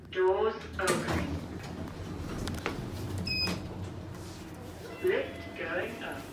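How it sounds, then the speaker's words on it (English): Thyssenkrupp lift doors opening in a shop, a soft sliding rumble with a few faint bumps and a short chime, heard under a recorded voice announcement and nearby talk. "Doors opening."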